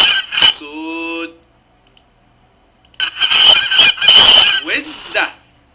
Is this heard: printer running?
no